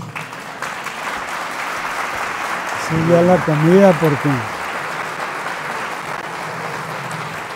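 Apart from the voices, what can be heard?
audience applause after a lecture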